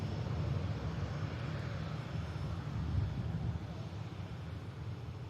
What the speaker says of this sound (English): arriving in from Munich next, Lufthansa City A320